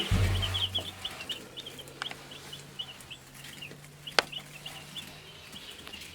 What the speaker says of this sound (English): here we coming up to see the chicks